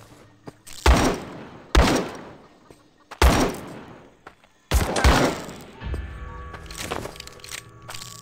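Gunshots ring out in the Guns at Dawn video game: four loud, sharp reports spaced about a second apart, each with a booming tail, followed by clattering mechanical sounds of reloading.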